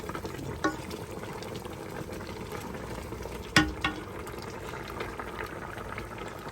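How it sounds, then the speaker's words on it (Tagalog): A pot of Ilonggo-style pork lechon paksiw bubbles at a boil, a steady close churning with a couple of brief clinks or splashes standing out. "Kumulo na siya."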